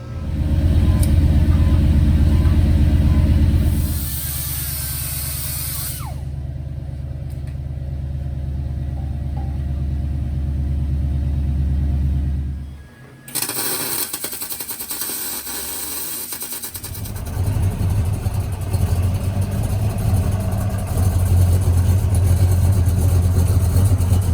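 A car with a rusty muffler whose bottom was blown out by a backfire idles with a loud, deep, rough rumble that drops away briefly midway and then resumes, with no talk.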